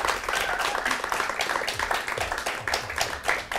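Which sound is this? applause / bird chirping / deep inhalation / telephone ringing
applause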